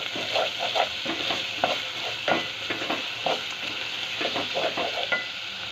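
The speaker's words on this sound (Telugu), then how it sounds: "ఈ పేస్ట్ని కూడా ఆయిల్లో చక్కగా ఫ్రై అవ్వనివ్వాలి." Ginger, garlic and green chili paste fries in hot oil, a bright steady sizzle broken by rhythmic stirring scrapes of a spoon against the pan, close up and without speech.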